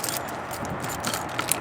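Keys jangle and scrape continuously up close as they work the lock on the door of a 2017 Riverstone 37RL fifth-wheel trailer, with small metallic clicks near the end and no talking.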